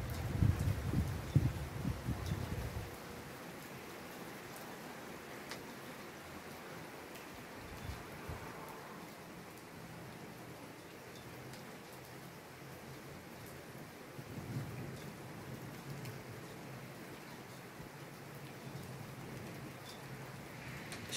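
Steady rain hisses throughout with wind noise, and a low rumble near the start suggests thunder rolling in.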